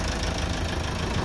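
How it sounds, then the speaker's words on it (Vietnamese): A Mitsubishi Triton pickup engine idles in its open engine bay with a close, steady, knocking diesel-like clatter, continuous and even throughout. "Máy nổ rất là giòn"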